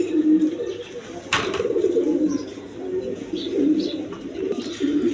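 Breeding pairs of pigeons coo nearby in low, repeated murmuring calls that run on and off throughout, with a sharp click early on and faint chirps now and then.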